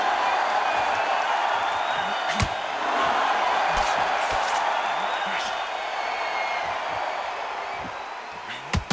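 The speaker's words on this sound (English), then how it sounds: "For all these reasons, you can hear everybody in the crowd." A crowd murmurs steadily in a theatre venue during a boxing match in the video game Undisputed, a broad, even hubbub with occasional sharp thuds, while a commentator talks over it throughout.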